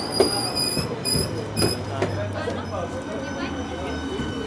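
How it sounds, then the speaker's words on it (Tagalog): A train rolls into a station in Slovakia with rumbling wheels, clanks and faint metallic squeals over a steady low drone, while people talk nearby. "Andyan na ang train."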